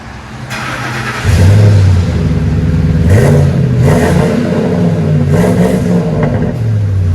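Ford F-150 with a 5.4L V8 and a Flowmaster Flow FX muffler side pipe exhaust, idling and then revved several times, loud and close throughout with a deep rumble and no talking.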